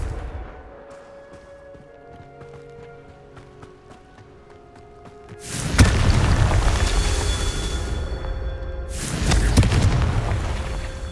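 Confringo fire spell in the Hogwarts Legacy video game: two heavy, booming explosive blasts, the first about halfway through and the second near the end, each followed by a rumbling roar over quieter game ambience.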